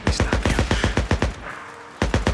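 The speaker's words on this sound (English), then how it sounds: "I hear gunshots." Rapid bursts of gunfire in the zombie video game Days Gone, a dense run of sharp shots, a brief lull, then another short burst, loud and close with no talking.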